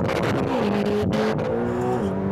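A McLaren sports car accelerates hard at full throttle, its engine note loud and close and climbing steadily in pitch through the gear with no break, the revs rising strongly.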